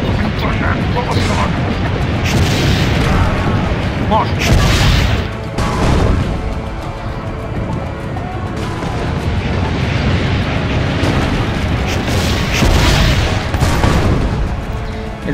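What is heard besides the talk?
cannon fire and explosions in Assassin's Creed Brotherhood video game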